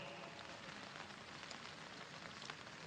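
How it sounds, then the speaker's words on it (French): Rain falls steadily outdoors in Paris, a faint, even patter that continues without pause. "Comme aujourd'hui, il pleut interminablement."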